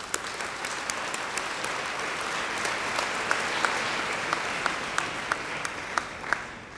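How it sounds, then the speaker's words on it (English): Steady, full audience applause fills a graduation fashion show at the Academy of Art University in San Francisco, with dense clapping and a few sharper claps standing out, no voices over it. "your parents, your guardians, anybody who's sponsored you also deserves a round of applause"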